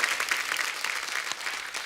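A studio audience claps warmly and steadily to welcome a singer onto a show's stage, a dense, even wash of applause with no one speaking over it.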